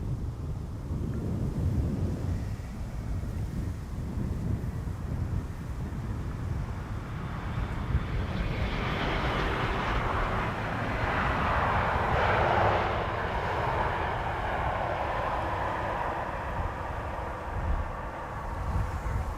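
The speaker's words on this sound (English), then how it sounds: "This is KLM flight 706, arriving from Rio de Janeiro." KLM airliner arriving at Amsterdam Schiphol Airport after a long flight from Rio de Janeiro, its engines swelling into a broad, rumbling roar that peaks midway and then slowly fades over steady wind noise.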